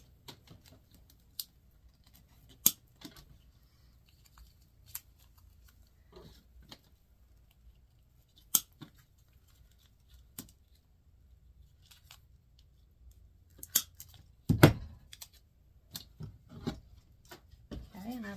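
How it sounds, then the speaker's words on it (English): Scissors snip pieces off a Dollar Tree willow sprig, giving sparse, sharp clicks and short cuts with a small cluster of crunchy snips near the end, close and fairly quiet. "I'm just going to cut some pieces off of there."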